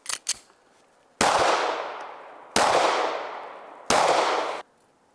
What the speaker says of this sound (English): We're gonna run 3 rounds of ball, 3 rounds of jagged hollow point out of a Glock 42